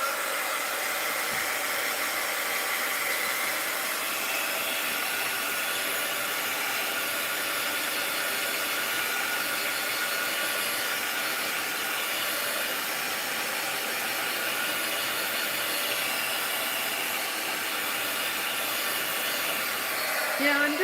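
A hair dryer blows on wet paint in a mixed-media art journal, giving a steady, loud, close whir and rush of air that runs unbroken for the whole stretch with no talking.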